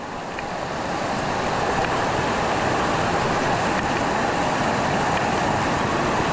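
Swollen, fast-flowing river after days of rain, a loud continuous broadband rush of water close by, steady throughout and building slightly at the start.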